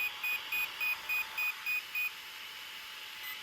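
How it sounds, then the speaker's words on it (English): A series of short, high-pitched electronic beeps from a Rival MT8 ESC in programming mode, seven or eight in a steady rhythm, followed by a quiet hum with no further tones. "That's 1 beep"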